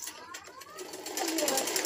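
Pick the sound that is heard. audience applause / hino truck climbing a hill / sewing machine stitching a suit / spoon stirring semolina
sewing machine stitching a suit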